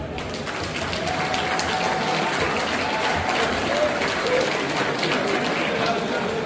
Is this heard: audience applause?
yes